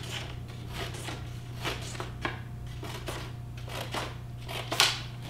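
Paper being snipped with scissors while shaping a palm branch craft, a series of soft, close crisp cuts spread through the stretch over a steady low hum.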